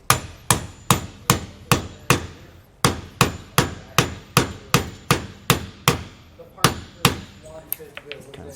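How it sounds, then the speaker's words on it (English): A hammer strikes a socket held over a leaf spring bolt fitting during a suspension installation on a 2022 Jayco Eagle trailer. About fifteen loud, close, metallic blows land in a steady rhythm, then come a few lighter taps. "So what we're going to do is use a socket. We'll put that right over it and use that to hit instead,"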